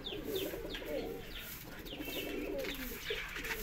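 Indian pigeons coo in a loft in repeated soft low calls, with a few sharper chirps and bird chatter from other birds mixed in at moderate, close range.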